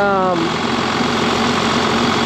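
The engine of a John Deere tractor that had long been broken down runs with a steady, loud idling rumble and vibration. A short harmonic whine fades in the first moment.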